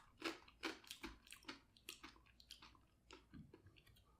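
Someone chews a single flake of sugary cereal up close, a quiet series of crisp crunching bites repeating steadily in a soft, irregular rhythm.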